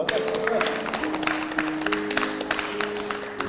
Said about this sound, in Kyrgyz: Кол чаап турат.